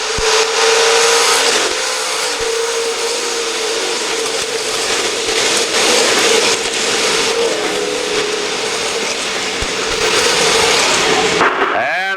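Stock cars racing at the Hutchinson Grand Nationals on a dirt track, a loud continuous roar of many engines throughout, with one car hitting the wall off turn three.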